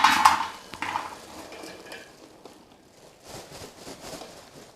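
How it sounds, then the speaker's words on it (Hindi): Soap base chips tipped into a metal vessel, a quick clattering rush of small hard pieces at first, then scattered faint rattles and settling clinks. "तो हम इसमें डालेंगे सबसे पहले ये हमारा सोप बेस जो कि हमारे पास है चिप्स में।"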